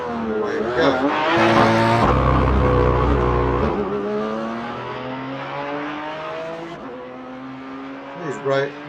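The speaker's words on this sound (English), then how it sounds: "These racing cars do sound absolutely awful on the pit limiter." A Porsche Cayman GT4 racing car idles roughly on the pit limiter, its engine buzzing and stuttering up close, loud and harsh with sudden pitch jumps.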